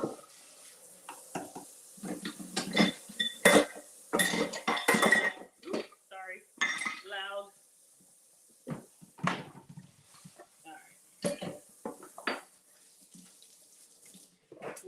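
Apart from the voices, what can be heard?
rinsing dishes in sink after making brownies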